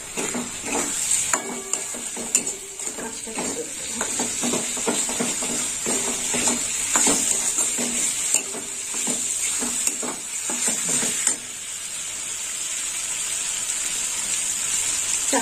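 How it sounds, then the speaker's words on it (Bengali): Chopped tomatoes sauté in a hot kadai for a chichinga and potato dish: a continuous close sizzle with repeated scraping and clattering strokes from a stirring utensil against the pan. "কেটে রাখা টমেটো দিয়ে দিলাম। টমেটো একটু কষা হবে"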